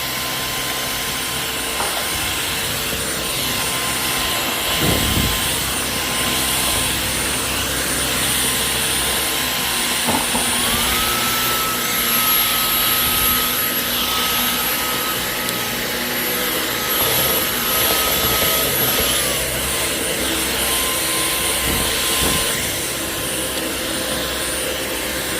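A Dyson Outsize cordless vacuum cleaner sucks up old Play-Doh, giving a loud, steady, close-up whooshing drone throughout, with occasional shifts in its whine and brief thumps as debris is picked up.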